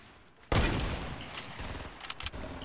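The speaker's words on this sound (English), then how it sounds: "People shooting. By the trees." Fortnite Battle Royale gunfire breaking out suddenly as a loud, close burst of shots, followed by a decaying rumble and a few more scattered, sharp reports, with game sounds around it.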